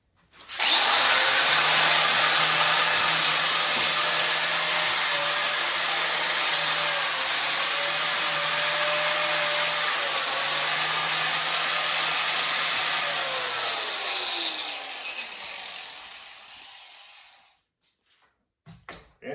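Power tool deburring freshly cut metal on a Husqvarna caster wheel fork repair, a loud close continuous high whine with grinding hiss lasting about fifteen seconds before spinning down and stopping.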